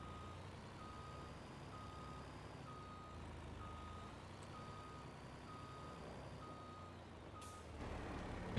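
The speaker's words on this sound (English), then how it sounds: "let's back up before that guy walks behind our truck" A truck in Farming Simulator 22 sounds regular reversing beeps, evenly spaced over a low engine rumble, with a brief hiss near the end.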